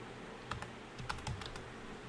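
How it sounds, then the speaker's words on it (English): Soft keystrokes on a computer keyboard, several quick taps in an uneven burst, quiet and close with no talking. "We type here dentist"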